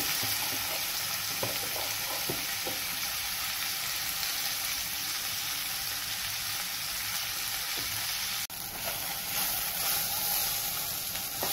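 Sliced okra (bhindi) frying in an open pan with asafoetida, sending up a constant dense sizzle while a spatula stirs and scrapes now and then; a sharp clatter lands near the end, and no one speaks.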